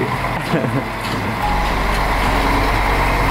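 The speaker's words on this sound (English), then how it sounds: "that's a long truck." A long truck reverses nearby, its heavy engine rumbling loud and steady while repeated reversing beeps sound through the roadside din, with a voice talking over it.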